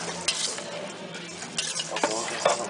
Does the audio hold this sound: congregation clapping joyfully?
no